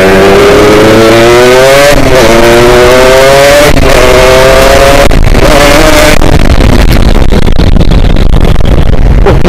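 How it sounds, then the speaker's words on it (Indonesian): A Kawasaki Ninja motorcycle accelerates at full throttle, its engine note climbing loud and close through several quick gear shifts before roaring on at high revs. "kita coba gaspol ya"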